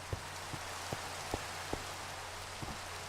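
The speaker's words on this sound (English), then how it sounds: "Gosh, that rain is loud." Rain weather in Minecraft, a steady hiss of falling rain with a handful of soft, distinct drop taps at irregular intervals, heard quietly on its own.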